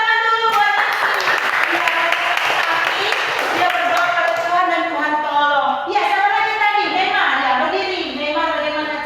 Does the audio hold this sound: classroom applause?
yes